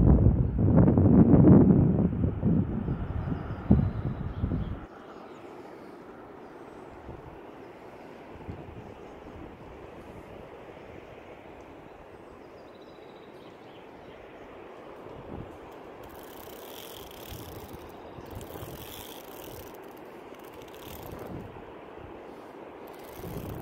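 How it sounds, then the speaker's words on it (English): Wind buffets the microphone on a via ferrata gorge bridge in Mürren, Switzerland, in a loud gust at first, then settles into a steady, softer rushing with occasional bursts. "Kind of windy up here."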